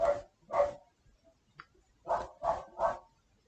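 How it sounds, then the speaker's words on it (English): A dog barks indoors: two barks, a short pause with a faint sound, then three more barks in a steady rhythm, fairly close and clear, with no speech. "The dog is barking at God knows what."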